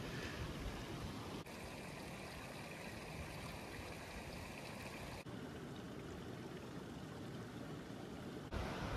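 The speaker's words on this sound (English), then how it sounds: "a big old cascade of waterfall and creeks all the way off the edge" A big cascade of waterfall and creeks spilling off a mountain edge near Squaw Lake along the John Muir Trail gives a steady, broad rushing roar, faint and distant, continuous throughout.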